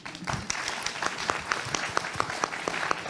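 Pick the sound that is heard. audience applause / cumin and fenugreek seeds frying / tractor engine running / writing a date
audience applause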